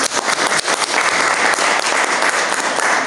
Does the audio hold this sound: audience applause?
yes